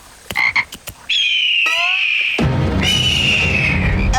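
Cartoon frogs croak after being released, a few quick separate croaks followed by long sustained warbling calls over a loud continuous background of cartoon sound effects.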